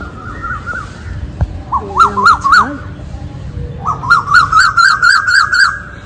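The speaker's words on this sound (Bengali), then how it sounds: "কোকিলের ডাক শোনা যাচ্ছে" A koel calls in clear rising whistled phrases, two bursts of repeated notes with a pause between, over a faint low background rumble.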